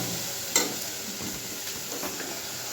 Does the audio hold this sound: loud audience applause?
no